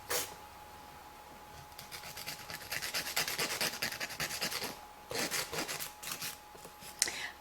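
An 80-150 grit nail file, using its coarse 80 side, shortens a French-style fingernail during a manicure. Soft, quick rasping strokes sound close and faint in two stretches, with no talking.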